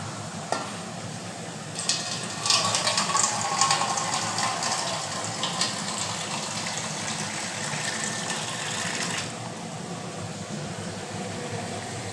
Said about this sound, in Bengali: এবার দিয়ে দেবো স্বাদ মতো জল